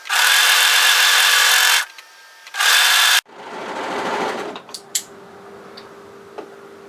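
A sewing machine stitches through four layers of dress fabric in two rapid whirring bursts, the longer first and a shorter second, then quieter handling clicks and rustles follow alone.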